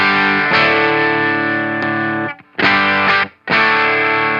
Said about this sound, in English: You can hear it squashing down the sound and leveling out any transients.